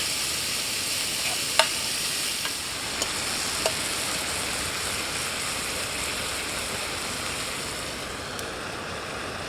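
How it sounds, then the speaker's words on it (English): Ribeye steak and mushrooms sizzle steadily in a frying pan, a continuous close hiss with a few faint pops and clicks, no voices. "Nice bit of ribeye steak there, some fried mushrooms"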